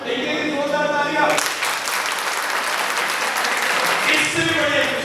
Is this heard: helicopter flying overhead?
no